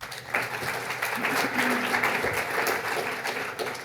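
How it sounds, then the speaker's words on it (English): Audience applause at a policy consultation forum, a steady wash of clapping from a crowd that swells after a moment and holds at full strength for several seconds. "Can we have a round of applause for all 4 together?"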